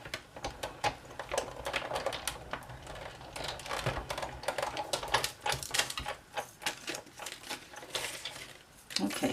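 A Big Shot die-cutting machine is cranked by hand to cut Night of Navy card stock with a large scalloped oval die. It gives a close, steady run of rapid clicking and ratcheting that keeps going for the whole stretch, with no voices.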